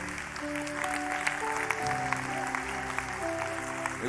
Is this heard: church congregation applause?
yes